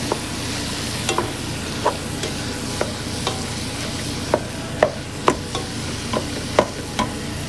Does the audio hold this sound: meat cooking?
yes